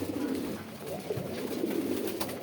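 Pigeons coo softly and continuously, a low murmuring burble from several birds at close to moderate distance.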